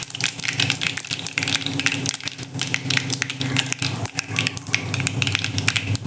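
Mustard seeds spluttering and popping in hot oil in a home kitchen pan, a dense continuous crackle and hiss close up, steady throughout with no talking.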